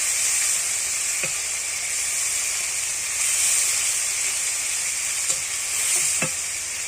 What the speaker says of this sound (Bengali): এর সাথে মশলাগুলো ভালো করে কষিয়ে নেব